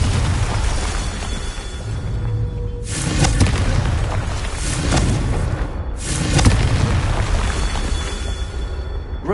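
Confringo blasting spells exploding in Hogwarts Legacy on PS5, with heavy booming blasts that rumble continuously and surge in loud bursts, including sharp impacts around the third and sixth seconds.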